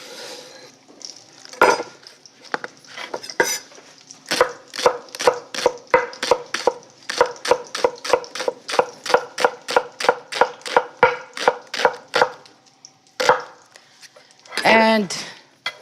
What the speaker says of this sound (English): So let's cut it in half.